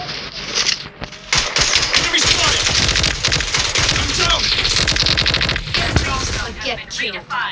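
Rapid automatic gunfire in a shooter game rattles in dense, fast bursts nearly nonstop, loud and close, with players shouting excitedly over it.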